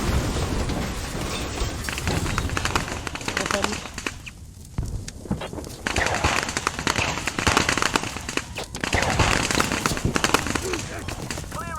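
Booming explosions in the video game Squad, an armored vehicle blowing up, with crackling blasts over continuous gunfire-like noise and someone talking excitedly in Turkish over the action.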